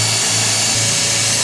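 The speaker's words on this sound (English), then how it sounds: "I'm just going to drill 2 holes where our marks are" Power drill boring holes for 10-32 machine screws on a Jeep CJ2A brake light switch conversion, a loud steady close whine whose motor pitch steps up and down briefly, with no talking.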